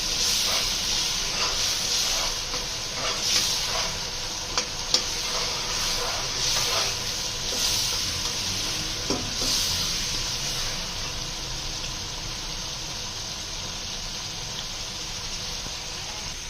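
Whole garam masala roasts in a pan for chana pulao, giving a soft, steady sizzle and hiss with light scraping and clinks of stirring. It continues at moderate volume with no talk.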